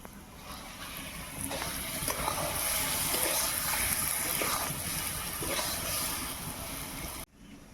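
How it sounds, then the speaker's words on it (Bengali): Water poured into a pan of melting tamarind and sugar for pickle, a steady gushing, bubbling pour that stays loud and close for several seconds before cutting off abruptly. "আমি সামান্য একটু জল দিয়ে দিচ্ছি।"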